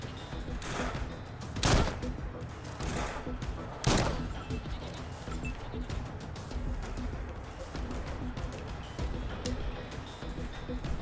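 Gunfire in Wasteland 3 rattles as a steady spread of muffled shots, with two heavier, louder blasts standing out, and a voice talking faintly underneath.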